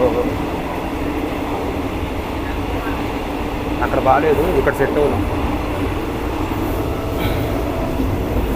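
An empty train rumbles along with a steady, loud roar and rattle, while a person talks briefly over the noise, crossing the Malaysia–Thailand land border.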